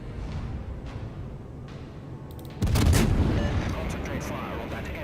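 Heavy warship artillery in World of Warships: a loud broadband salvo boom bursts in about midway, rumbling and decaying over the following seconds above a steady background of distant gunfire and battle noise.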